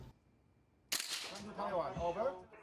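A single sharp gunshot cracks out after a quiet stretch at shooting practice in Taiwan, followed by a voice talking in the background.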